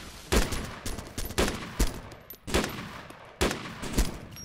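Repeated heavy gunshots from a BMP vehicle in Arma 2, about six loud bursts spaced roughly half a second to a second apart.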